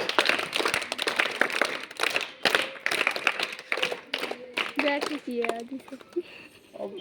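Classroom applause for a student, with many hands clapping in uneven bursts that come and go under an adult talking over them.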